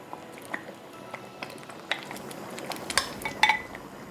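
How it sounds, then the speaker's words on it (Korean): Raw oysters go into a pot of boiling seaweed and radish soup, giving scattered light clinks of utensil on pot, soft drips and small wet plops over a faint simmering background. "끓어오를 때 굴을 한번 넣어보겠습니다"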